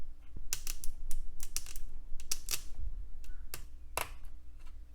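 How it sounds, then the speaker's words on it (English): Sharp clicks, taps and scrapes of a keyboard BIOS chip being pried out of a vintage '80s or '90s computer board, scattered irregularly over about five seconds at close range with a low steady hum underneath. "Now I'll extract the keyboard BIOS."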